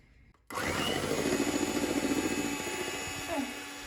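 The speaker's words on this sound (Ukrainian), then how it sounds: "зараз все це збиваю в таку дуже пишну піну" Egg whites with a small pinch of salt whipped into a thick foam by an electric mixer, a steady loud whirring drone that starts abruptly and runs on with slight pitch shifts.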